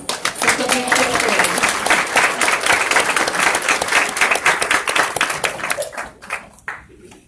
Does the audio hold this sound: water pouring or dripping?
no